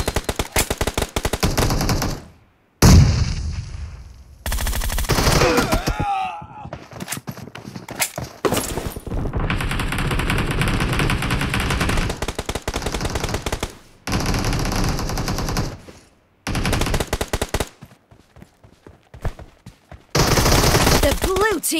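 Rapid automatic gunfire in a team deathmatch arena match of PUBG Mobile, loud bursts of shots with brief gaps and reload pauses, mixed with game announcer voice callouts.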